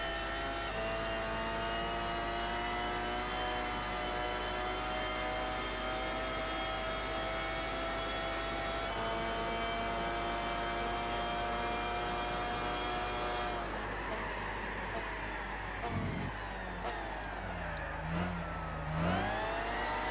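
Race car engines roar steadily on a track in Gran Turismo 6, a loud sustained whine with layered harmonics, shifting pitch as another car closes in behind, then dipping and rising through gear changes near the end; no talking.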